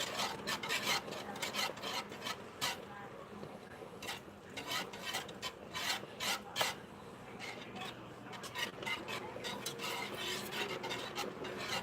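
Gravy for biscuits and gravy is whisked in a pan over high heat. A continuous close scraping and rasping of the whisk against the metal keeps up in quick, uneven strokes with faint clinks.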